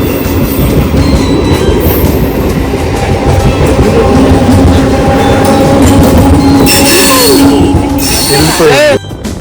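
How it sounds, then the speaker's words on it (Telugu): A passenger train on an Indian rail line rolls past loud and close, a continuous rumble with clattering wheels and rising squeals of metal, ending abruptly as it cuts off. "ఎక్స్ప్రెస్ వస్తుంది అనుకుంటే ప్యాసింజర్ వచ్చింది"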